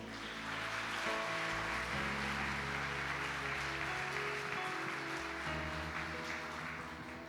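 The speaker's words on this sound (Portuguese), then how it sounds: "Você pode aplaudir ao Senhor?" A church congregation applauding during a worship service, a dense continuous wash of clapping layered over sustained organ or keyboard chords, steady and loud throughout.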